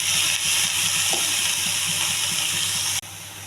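Red amaranth with dried chilli and onion frying in a hot pan, a steady loud sizzle and hiss running throughout with faint stirring scrapes, then dropping slightly near the end.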